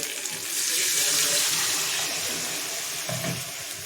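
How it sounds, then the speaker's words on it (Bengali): Water poured into a pan of fried spice paste for katla fish curry, a steady bright splashing gush running for a few seconds at close range. "এখন আমি জল অ্যাড করে দেব।"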